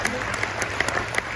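Applause from the audience at a bar association induction ceremony, a steady patter of clapping with a few sharper individual claps and faint voices mixed in.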